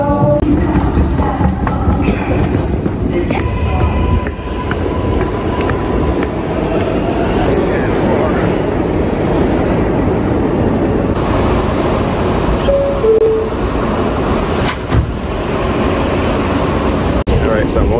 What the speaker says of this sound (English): Alright, so I'm on the train.